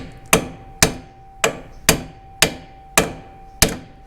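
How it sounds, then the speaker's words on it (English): Hammer striking a stuck bolt on a 1971 Opel GT front suspension, seven sharp metallic blows at a steady rhythm about half a second apart, each ringing briefly, close and loud. "Might have to hit it with a hammer."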